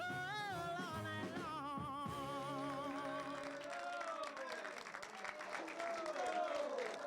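Audience applause at a live music show, a broad wash of clapping rising as sung and played notes fade out, steady and dense throughout.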